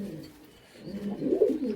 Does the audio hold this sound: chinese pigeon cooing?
yes